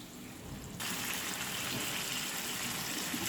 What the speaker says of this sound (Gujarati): હું આમાં બાફેલી મકાઈ નાખી દઈ। આમાં જે પાણી હતું એ પણ આપણે એમાં રાખવાનું છે।